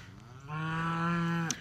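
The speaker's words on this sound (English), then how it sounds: "I guess I need to stop and feed the cows." A single cow on a farm gives one long, loud moo lasting about a second, close by, with no talk around it.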